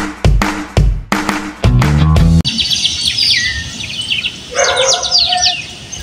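Bright bird calls and twittering chirps in a park carry over a soft outdoor background, with several sharp knocks at the start.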